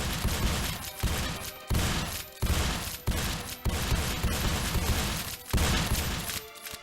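Twin guns in a small indie game firing in rapid sustained bursts, each volley a dense rattle broken by short gaps roughly every second, loud and close with no talking.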